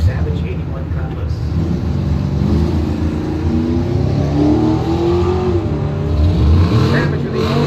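A 2002 Grand Prix GT and a 1981 Cutlass drag racing at a strip, with loud, sustained engine roar and revving throughout, under a track announcer's voice.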